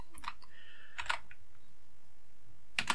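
Computer keyboard keys tapped to set game controls for Rex on a Sinclair Spectrum: a few sharp clicks in two quick clusters, near and fairly quiet, with a pause between them.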